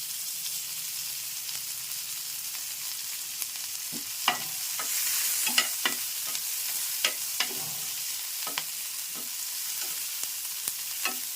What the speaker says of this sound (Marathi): तेल गरम असतानाच इथे कांदा घालणार आहे